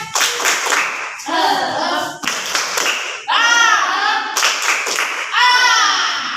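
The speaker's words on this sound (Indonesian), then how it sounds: "tepuk semangat" Schoolchildren in a classroom clap a rhythmic spirit clap together, loud bursts of patterned hand claps mixed with the children's chanting voices throughout.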